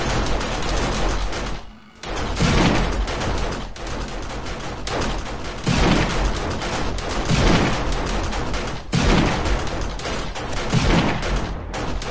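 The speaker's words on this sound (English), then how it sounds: "Damn, the sniper rifle's a little bit slow." Dense sniper rifle gunfire from 7 Days to Die, loud and continuous over about twelve seconds, with heavy repeated shots and booms and one short pause, no talking.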